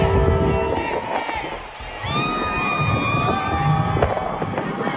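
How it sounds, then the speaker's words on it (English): A large crowd at a rally in Philadelphia cheers and shouts loudly, with whistles and high-pitched yells rising over the continuous roar, and voices mixed in. "Look at the cheering crowd"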